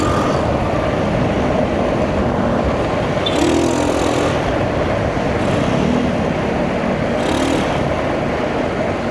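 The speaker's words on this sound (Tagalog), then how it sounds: "Madami na yung sasakyan." Steady road traffic noise with a constant broadband rumble, vehicles passing continuously nearby, with a few brief louder swells.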